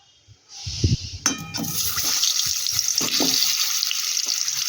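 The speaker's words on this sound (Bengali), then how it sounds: "এবার এই ফোড়নের উপরে দেব আগে থেকে মাখিয়ে রাখা আমড়াগুলো" Marinated hog plums tipped into hot mustard-style oil with fried dry red chillies for a sweet-sour pickle, erupting into a loud, steady sizzle that starts abruptly and holds without talk.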